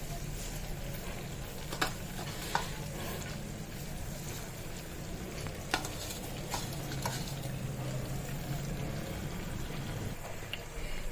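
Leaves dropped into hot homemade herbal hair oil with coffee powder, a sustained sizzle and crackle with a few sharp clicks of a spoon, steady and close.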